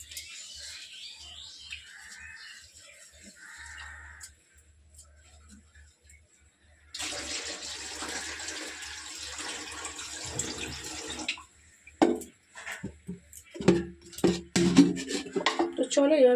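Drinking water runs from a kitchen tap into a container, a soft steady splashing stream in a home kitchen, followed by clattering pots and someone talking.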